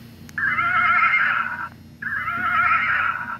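A Boom Blasters horse-sound car horn lets out two loud, shrill electronic neighs, each about a second and a half long, with a short gap between them and a faint hum beneath.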